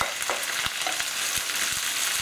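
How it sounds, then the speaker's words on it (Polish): Spinach hits sizzling garlic in a frying pan, giving a loud, continuous crackling sizzle. Sharp pops and stirring scrapes break through it now and then. "Czosnek zaczyna już pięknie pachnieć, a zatem wrzucam szpinak."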